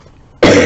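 A single sharp, loud cough right up close, cutting in abruptly after near silence.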